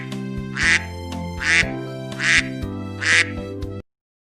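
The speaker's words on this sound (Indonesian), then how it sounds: "Ini adalah suara bebek." A duck quacks four times at an even, unhurried pace, each quack loud, nasal and close, with brief quiet gaps between calls.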